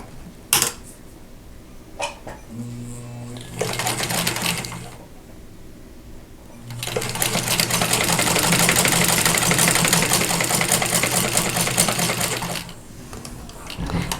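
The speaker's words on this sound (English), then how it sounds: "sew with a 1/4 inch seam allowance" A sewing machine stitches a quarter-inch seam on a quilt block, running in a short burst, pausing, then humming steadily for several seconds before stopping, close and clear.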